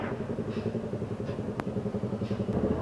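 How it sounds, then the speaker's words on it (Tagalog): Steady rumbling motorcycle engine noise from behind the rider on a road trip, fairly close and continuous, with a rough throbbing texture and a faint click partway through. "Kaya ingay naman ang motor dito sa likod ko."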